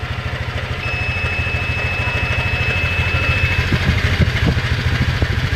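A motorcycle engine idles steadily up close with an even low pulsing throb, a hose fitted to its exhaust for a carbon monoxide gas detector test, and a thin steady high whine runs alongside.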